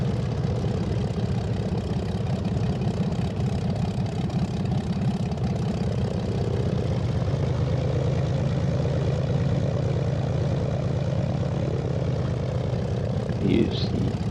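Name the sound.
Zlin 142 propeller aircraft engine in video game X-Plane 11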